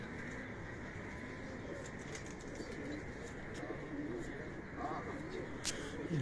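Soft pigeon coos from a rooftop flock in Karachi and faint bird calls in the background, with people talking over a steady outdoor murmur.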